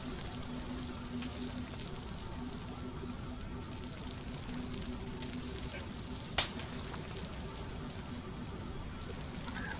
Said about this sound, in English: Attach that to the fire and cook it.